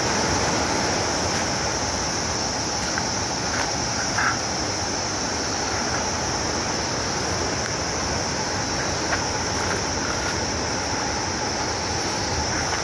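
The Pikhuwa river rushes beneath a footbridge, a loud, constant broadband roar of fast water, close by and steady throughout with no voices.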